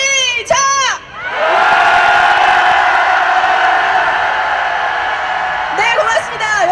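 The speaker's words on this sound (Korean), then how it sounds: "청와대를 향해서 분노의 함성 5초간 시작!" A large crowd at a candlelight rally protesting election interference lets out a sustained angry roar lasting several seconds, loud and close, with a speaker's voice briefly before and after.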